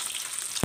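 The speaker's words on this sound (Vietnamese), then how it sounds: "Rồi chảo dầu đã nóng, mình hạ lửa nhỏ xuống và mình sẽ chiên." Dried snakehead fish frying in hot oil in a small pan over low heat, giving a steady bright sizzle that ends in one short low thump, with no talking.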